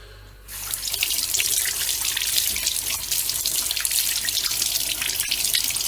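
A Miele S5210 vacuum part is rinsed under a running kitchen tap, which gives a loud, steady gush of water with splashing after a brief quiet start.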